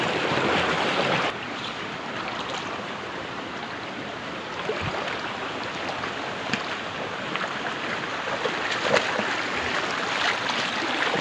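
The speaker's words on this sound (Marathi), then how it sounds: "बघा इथे 2 ओढे लागलेत." Rain-fed stream water rushing steadily past on a rainy day, a continuous broadband wash that stays loud throughout with a brief quieter dip near the start and scattered splashes on top.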